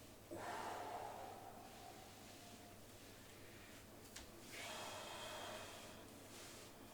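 Deep breathing during a foam rolling exercise on the hamstrings, two long slow breaths, one inhaled and one exhaled, heard close and quiet over a low background hum.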